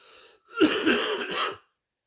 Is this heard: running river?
no